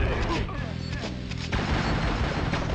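Bursts of gunfire in the PS1 game Spider-Man crackle in quick succession, with a heavier boom midway, mixed with faint voices.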